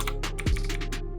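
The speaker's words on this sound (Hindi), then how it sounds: "इसकी ना मैकेनिकल कीज है तो आवाज काफी प्यारी लगती है।" Rapid typing on a Cosmic Byte CB-GK-21 Themis mechanical gaming keyboard with blue switches, giving a quick, even run of crisp clicky keystrokes close up, alone with a low steady hum underneath.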